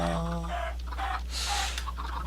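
Minecraft chickens cluck and squawk in short bursts, close by, with a steady low hum underneath.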